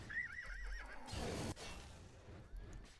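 A horse in Elder Scrolls Oblivion gives a loud, wavering neigh, followed by a burst of hooves and thuds, fairly close and with no talking.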